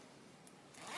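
A fancy zipper being pulled along a small handmade fabric thread bag, one quiet continuous zip lasting about a second, close and alone.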